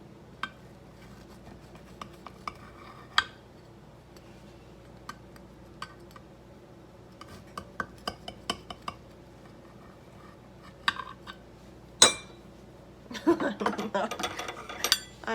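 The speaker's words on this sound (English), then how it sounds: "We're just gonna cut it. And take out a slice and butter it." A knife cuts through a slice of homemade cornbread in its pan, then butter is spread on it: sparse soft ticks and clinks of metal on the pan, ending in a burst of louder scraping and clatter.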